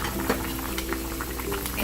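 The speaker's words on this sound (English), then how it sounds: "in a medium flame I'm gonna boil this for 15 minutes" Keema jhol momo soup bubbling in a covered pot over a medium flame, a soft, steady simmer of small pops and gurgles close by.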